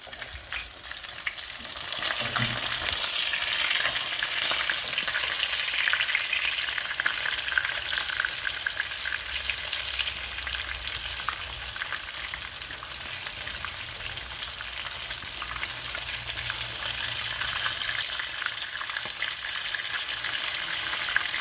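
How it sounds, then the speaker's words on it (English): Steady, close sizzling of chicken frying in hot oil, with constant crackling and small splatters throughout, no voices. "You hear it splattering a little bit or sizzling."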